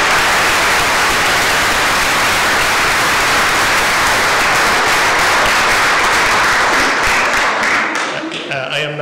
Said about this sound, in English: I would ask you to give him a round of applause